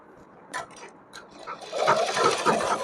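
A sewing machine stitches a cotton dress, a few short starts followed by a steady, fast run of stitching, close and moderately quiet.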